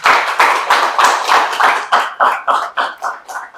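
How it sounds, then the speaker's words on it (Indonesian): A small audience claps at a university teaching session, a dozen or so loud, distinct claps in a fairly even rhythm close by, tapering slightly toward the end. "Tepuk tangan dulu untuk"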